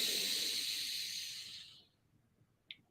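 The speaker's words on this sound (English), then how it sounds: "Nice deep inhale." A deep, steady breath drawn in during a yoga breathing exercise, a long airy hiss that holds for over a second and a half before fading to near silence, followed by a brief faint sound.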